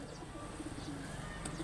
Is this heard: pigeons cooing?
yes